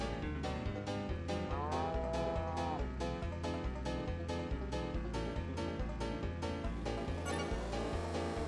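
Cows moo in the Choro Q racing video game, their lowing blended into a steady, looping in-game soundtrack with a driving beat that runs continuously at an even level.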